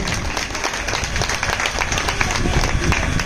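An audience at a bhajan evening in Sagarpur, Delhi bursts into loud, sustained applause, dense clapping filling the hall with voices mixed in.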